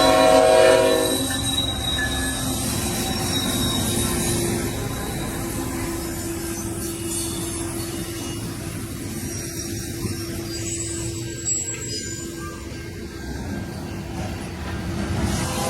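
A freight train hauled by two GE Dash 8 locomotives rolls past on a Winnipeg-to-Toronto run, a loud steady rumble of wheels and cars with a horn-like tone early on, continuous and close throughout.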